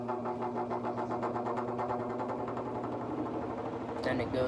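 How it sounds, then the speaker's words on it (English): The fan motor of a Haier 5,200 BTU air conditioner runs with a steady, droning hum and tonal whine, continuous and close throughout. "What is that fan motor sound?"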